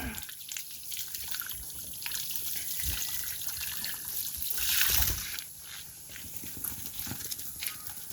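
Water trickles and drips into the drinking troughs of native pigs on a small farm, a continuous wet patter with irregular soft knocks and clatter close by and no talking.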